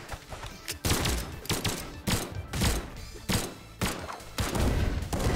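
Cannon fire from a Transformers mod character in Brawlhalla: loud booming blasts in quick bursts, roughly six heavy shots spaced about a second apart, layered over busy game action.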